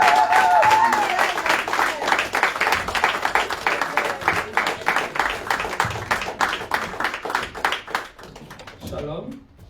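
A church convention congregation claps together in a steady rhythmic beat, loud and close, after a brief spoken bit at the start, and the clapping fades out near the end.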